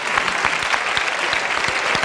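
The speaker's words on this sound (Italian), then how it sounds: "un applauso" Studio audience applause on an Italian television variety show, a bright steady clatter of many hands with a few louder rhythmic claps standing out, continuous throughout.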